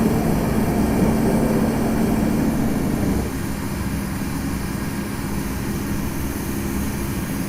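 A Challenger 350 business jet from the Infinite Flight simulator climbs out with its landing gear retracting, a loud continuous engine roar and rumble that drops slightly in level partway through, with no talking.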